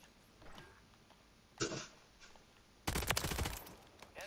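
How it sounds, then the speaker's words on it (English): Bursts of gunfire in a shooter video game on the Fortune's Keep map, a short volley early on, then a louder, denser rapid-fire stretch near the end, moderately close with no talk. "we're getting shot from the right"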